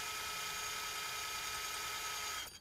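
An air hammer works at a wheel stud on a 1998 Suburban, producing a loud, continuous rapid buzzing rattle that holds steady for over two seconds and then stops abruptly, with no talking.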